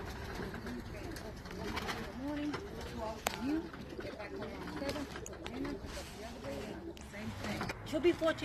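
Racing homing pigeons coo softly and repeatedly outdoors near a property with a trucking yard behind it. The rhythmic murmuring coos sit under a person talking nearby.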